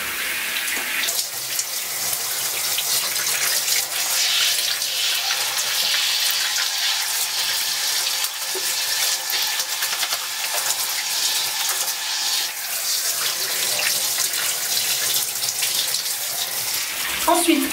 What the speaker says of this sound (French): Et après je rince